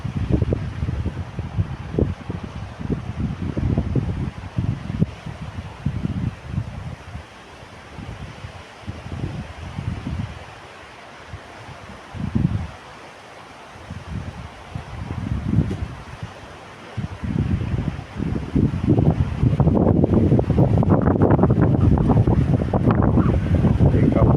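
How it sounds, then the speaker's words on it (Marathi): Very strong wind at a rocky seashore with surging waves, roaring gusts buffeting the microphone in heavy, uneven blasts with brief lulls, loud and close throughout. "आज अतिप्रचंड वारं आहे"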